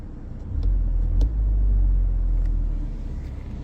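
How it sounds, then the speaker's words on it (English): A 2016 Mini Cooper S with a John Cooper Works kit, its deep exhaust rumble swelling louder and throatier as the exhaust opens, holding a steady low drone before easing back slightly. "and it opens up your exhaust"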